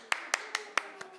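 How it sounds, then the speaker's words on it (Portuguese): Five sharp, evenly spaced claps from an audience at a live music show, fairly quiet and alone with no talk over them, the last one softer. "Palmas para o meu agente."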